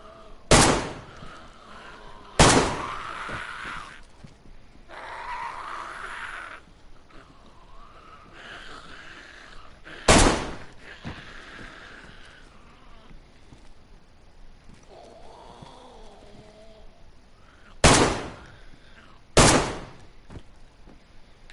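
Sharp gunshots in DayZ on PS4: five loud, isolated cracks spread unevenly, two early, one in the middle and a closely spaced pair near the end, with quiet ambient game sound between them.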